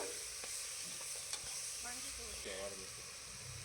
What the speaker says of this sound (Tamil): ஆட் பண்ணி அதையும் நல்லா வதக்கி எடுத்துக்கலாம்